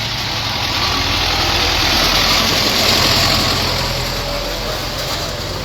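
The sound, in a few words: tractor engine running at a farm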